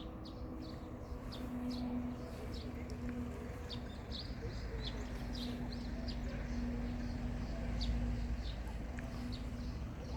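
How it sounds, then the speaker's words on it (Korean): Birds chirp and call in short bursts throughout a house garden with lawn and stone path, accompanied by a repeating low cooing, fairly faint over a steady outdoor background hum. "새소리가 아주 우렁찹니다."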